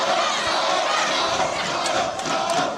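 Crowd at a women's volleyball match (Bluefield vs. UPIKE) cheering and chanting loudly and steadily from start to finish, a dense wall of voices with no single speaker standing out.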